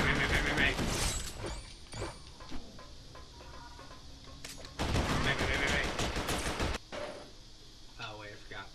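Gunfire in the Marvel Ultimate Alliance video game: loud bursts of rapid shots, a dense run early on and another long sustained volley midway, with game effects and a voice between them.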